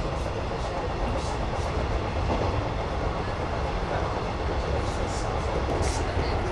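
Steady, broadband rumble and rattle of a train rolling along its rails, continuous and close throughout, with faint higher squeaks now and then.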